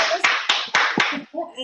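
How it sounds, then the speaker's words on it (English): Several participants in an online meeting clap over unmuted microphones, giving four or five loud separate claps in a quick uneven sequence, followed by a short cheering voice. "Can everybody unmute their mics and give a clap?"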